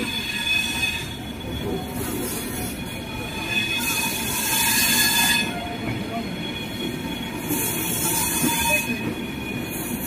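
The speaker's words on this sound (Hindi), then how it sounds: "ये बरौनी अहमदाबाद ट्रेन लगी है जो वीकली में आसनसोल अहमदाबाद एक्सप्रेस बनकर चलती है" The Barauni–Ahmedabad express train at Barauni Junction station rolls past with a loud, continuous rumble and high, ringing wheel squeal that swells and fades in waves.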